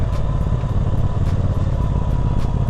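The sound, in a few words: 2019 Triumph Speedmaster motorcycle riding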